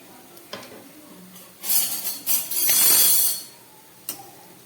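Sweet palm fritters fry in a wok while a knife lifts and turns them, giving scraping clinks and bursts of sizzling, with one long loud sizzle in the middle and quieter knocks before and after.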